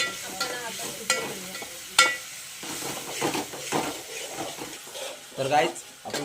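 Onion, whole spices and garlic paste frying in a pan with soft sizzling and scraping stirs, plus occasional clinks of utensils against the pan, close by, under a person talking throughout.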